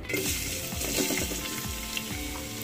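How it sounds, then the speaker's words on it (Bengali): Chopped onions fry in oil in a cooking pot with a steady, moderate sizzle, with occasional scraping and stirring clicks under the crackle and no talking. "পেঁয়াজগুলোকে হালকা বাদামি করে ভেজে নেব"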